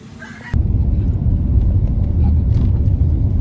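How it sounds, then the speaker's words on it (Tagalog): Inside a taxi riding on the road, a loud, steady low engine and road rumble starts abruptly and continues, with faint voices nearby. "So ayan na yung taxi na sasakyan namin."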